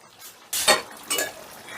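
A lid is lifted off a pot of yogurt chicken after ten minutes of covered cooking: two short metallic clinks and clatters, close and fairly loud, over quiet kitchen background.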